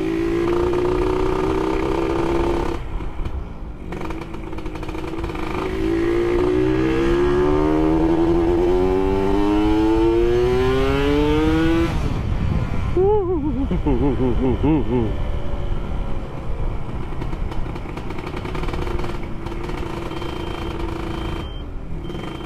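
A road-race motorcycle with a Killer Whale aftermarket exhaust revs and accelerates with a rising, buzzing exhaust note, then drops back and revs again, loud and close, under some talking.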